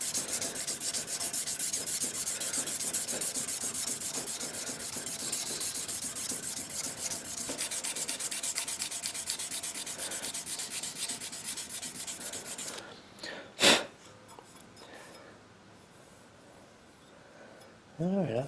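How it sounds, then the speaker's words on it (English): A knife blade is hand-sanded with a small 600 grit abrasive slip, giving rapid back-and-forth rasping strokes close by for about twelve seconds, followed by a sharp knock and a quiet pause. "we're going to do 600 grit while we got it on this side. This is our 600 grit little slip."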